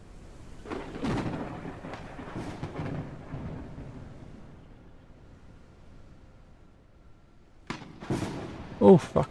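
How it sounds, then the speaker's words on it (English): Thunderstorm in the video game Forever Skies, with rumbling thunder and wind-driven rain swelling and fading, louder crashes near the end, partly under someone talking. "A storm is coming."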